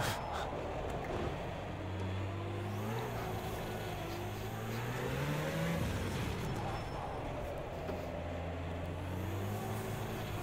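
Rallycross car engines in the racing game Project CARS 2, a steady droning roar with rising and falling pitch as the cars accelerate and shift, continuous and moderately loud throughout.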